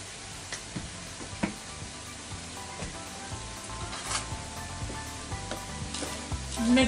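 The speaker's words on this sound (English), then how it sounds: "and fry them for about 10 minutes." Food sizzling steadily in a frying pan after being salted and peppered, a constant crackling hiss broken by occasional ticks and stirring scrapes, close and alone.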